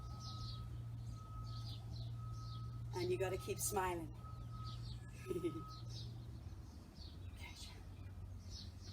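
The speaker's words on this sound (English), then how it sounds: "Hear all the lovely birds this morning cheeping at me." Garden birds chirp and tweet in the morning, with repeated light calls throughout at a moderate distance beneath a steady hum, while a person talks over them.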